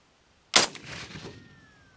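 A single loud gunshot fired at an armor plate 30 yards away, with a sharp crack and a short echoing tail after a moment of quiet.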